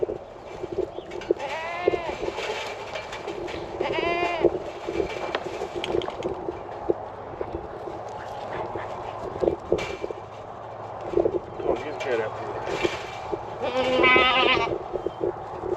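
A goat bleats several times, loud and close, with wavering cries spread out over rustling and outdoor background noise.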